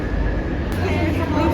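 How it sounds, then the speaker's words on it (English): Steady broadband rumble and rattle inside a double-decker train heading to Amsterdam Centraal, loud and continuous, with voices talking over it. "Now we're going to get the train to Centraal."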